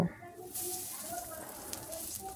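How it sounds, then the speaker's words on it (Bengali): Water spinach and masoor dal pakoras frying in oil, giving a soft, steady sizzle with faint bubbling crackles at moderate loudness. "সোনালি রং হওয়া পর্যন্ত এগুলোকে ভাজতে থাকবো"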